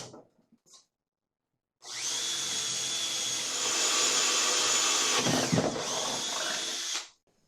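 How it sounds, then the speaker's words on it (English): A drill whines steadily for about five seconds, loud and close, cutting a countersink in cast iron, starting abruptly after a few faint clicks and stopping sharply. "But first I want to drill the countersink, then drill the hole."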